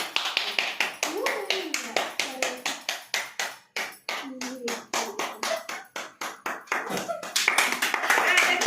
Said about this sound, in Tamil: கிளாப் தட்டு கிளாப்